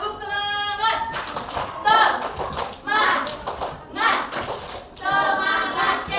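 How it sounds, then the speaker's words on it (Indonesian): A fourth-grade Indonesian class claps a short rhythmic spirit clap between bursts of voices, with children and a teacher calling out in unison. "Tepuk semangat."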